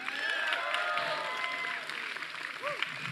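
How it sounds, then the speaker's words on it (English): A protest crowd of activists gives a brief round of applause, steady dense clapping at a moderate distance, with voices mixed in throughout. "Can we have a round of applause for that courage?"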